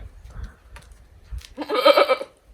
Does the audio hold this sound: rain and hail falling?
no